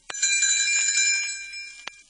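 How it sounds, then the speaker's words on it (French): Tinker Bell's little bells tinkle as a page-turn signal, a bright chime with a shimmering ring that decays over about two seconds, followed by a second soft tap near the end. "Elle fera tinter ses petites cloches"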